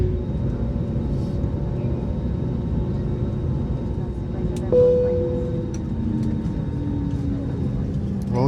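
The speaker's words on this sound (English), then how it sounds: "So we have landed in JFK. Right now taxiing" Inside a Frontier airliner taxiing to the gate after landing at JFK, a constant low engine rumble and cabin drone fills the space, with faint tonal whines and a brief rise partway through.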